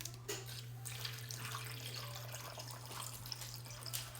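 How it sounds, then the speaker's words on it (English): Water running from a tap into a pot of meat during carnivore meal prep, a steady close splashing flow with a constant low hum in the background and no talking. "So let's get some water added."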